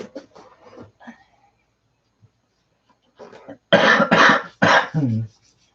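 Quiet scattered sounds, then three or four loud, close coughs in a quick burst, the last trailing into a throaty rasp.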